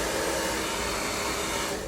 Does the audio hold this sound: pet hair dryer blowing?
yes